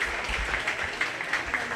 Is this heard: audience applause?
yes